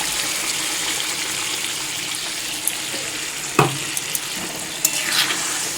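Spicy egg curry sizzling and bubbling in a pan after a splash of water, a steady moderate hiss with a few sharp spatters and clinks of stirring.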